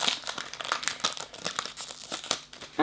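Crinkly plastic snack packet of aperitif biscuits being handled and torn open, a close, busy run of crackling crinkles and short tearing bursts with no talk.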